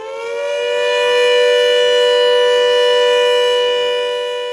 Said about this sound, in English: the air raid sirens